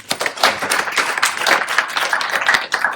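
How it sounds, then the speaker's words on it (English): Audience at a panel discussion gives a round of applause, dense, close, steady clapping from many hands filling the whole stretch with no voices. "Can I get a round of applause for?"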